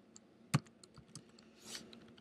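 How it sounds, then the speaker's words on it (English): Typing on a computer keyboard while editing an XML file for an Android app, with a few scattered key clicks and one sharp louder keystroke, close and alone. "For now, I'm typing in the XML file directly"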